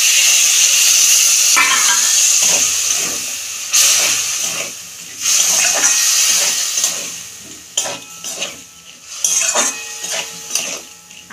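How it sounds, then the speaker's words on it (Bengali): Water poured into a hot pan of amla pickle cooking with jaggery, producing a loud steady hiss of steam that swells and fades, with a few utensil clinks against the pan near the end. "অল্প আমি জল দেবো।"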